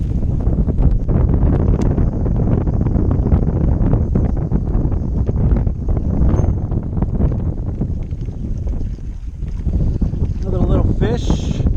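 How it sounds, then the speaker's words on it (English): Strong wind buffets the microphone during kayak fishing in high winds on the California Delta, a steady loud roar with gusts that dips briefly near the end while a voice talks faintly underneath. "this wind is insane"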